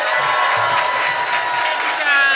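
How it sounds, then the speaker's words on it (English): A rally crowd applauds and cheers for a state treasurer candidate, a dense, continuous wash of clapping and shouts filling the whole stretch without letup. "Let's greet with great applause our friend and next state treasurer, Fiona Ma."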